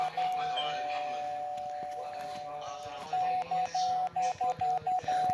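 A house doorbell rings in a steady electronic tone, then sounds again as a run of short, evenly spaced chimes, with voices talking in the background.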